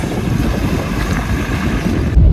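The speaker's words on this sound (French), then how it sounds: "je suis désolé si vous entendez le vent" Strong morning wind buffets a microphone outdoors on the road between Perpignan and Narbonne, a loud continuous low rumble that swells into a heavier blast near the end, with no speech.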